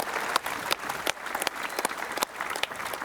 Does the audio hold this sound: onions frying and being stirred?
no